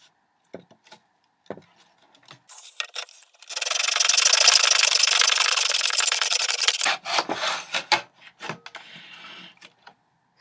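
A hand saw cuts a mitred end on a piece of wood in a mitre box, making a continuous close rasping stroke for about three seconds, with scattered clicks and handling knocks before and after.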